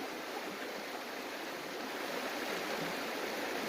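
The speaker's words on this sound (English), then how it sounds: "So we're gonna pan this one down." Stream water runs steadily around a gold pan during prospecting in Pennsylvania, a continuous broadband rushing and swishing that stays even and fairly loud throughout with no voices.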